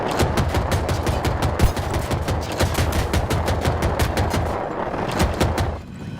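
Rapid automatic gunfire in Battlefield 2042, sharp shots cracking in fast, steady bursts at close range with a fuller fusillade, loud and continuous before cutting off near the end.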